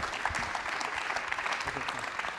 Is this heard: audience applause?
yes